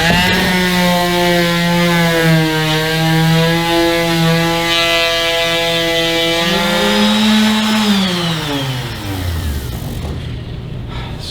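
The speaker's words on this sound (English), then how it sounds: "So my last 320 grit is done with that orbital sander" An orbital palm sander works 320-grit paper over the wood of a handmade Viking chair, a loud, steady motor whine that winds down and stops near the end.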